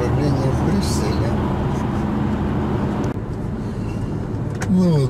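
A car drives along a motorway in Belgium toward Brussels, a steady loud road and engine rumble with tyre noise heard from inside, while someone speaks over it.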